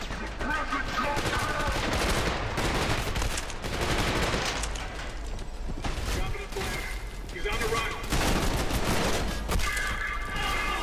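Sustained rapid gunfire in the shooter game Trepang2, dense bursts of automatic and pistol shots with booming impacts and mechanical clatter, loud and continuous throughout with brief lulls.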